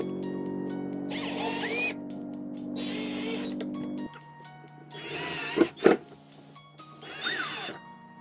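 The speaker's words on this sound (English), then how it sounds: "mark a location as per your desired height and drill pilot hole" A power drill drills a pilot hole during IKEA LACK coffee table assembly, whirring in several bursts, steady then revving in short pulses, with a couple of sharp knocks between runs.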